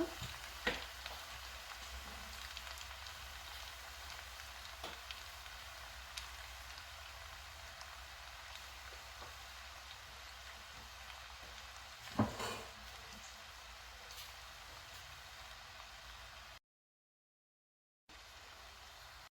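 Veg noodles with spring onions being stirred in a pan: a steady soft sizzle with light scraping and tapping, one sharper clink partway through, then a brief silence near the end.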